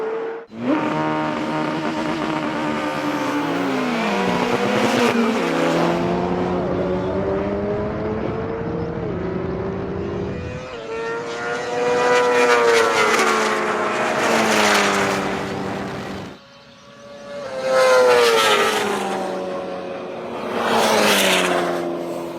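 Drag race launch of a BMW S1000RR superbike, a McLaren 720S and an Ariel Atom 4: loud revving engines climbing through rapid gear changes, with whining upshifts as the vehicles accelerate away and pass.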